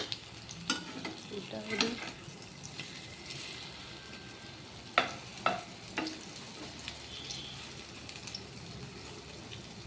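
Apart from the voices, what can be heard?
food frying in a pan after being flipped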